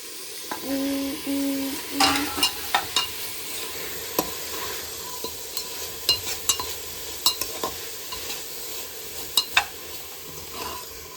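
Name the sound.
stirring soybeans and vegetables for biryani in a cooker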